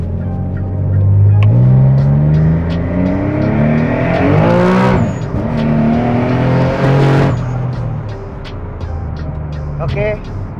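A Nissan Fairlady 370Z JDM engine revs hard on a test drive, climbing through two long loud pulls with gear changes before easing to a lower drone, while people talk in the car.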